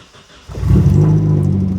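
A Nissan 240SX that sat for five years cranks briefly and fires into a steady running rumble, close by and moderately loud, with no talking.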